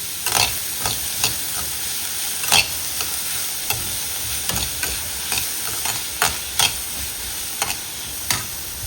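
Onions sauté in oil for a chicken gravy, a continuous bright sizzle broken by repeated sharp ladle taps and scrapes against the pan at an uneven rhythm.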